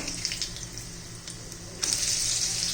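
Egg and onion pakoras fry in hot oil while being flipped, a steady close sizzle with small clinks, swelling louder and brighter near the end as fresh bubbling takes over.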